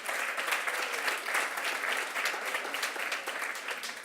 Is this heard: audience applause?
yes